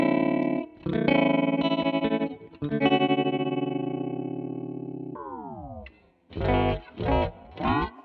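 A MoogerFooger ring modulator plugin warps a harmonic tone, first with a fast, fluttery wobble, then slowing into sweeping, bending pitches and a few choppy bursts near the end, loud and alone.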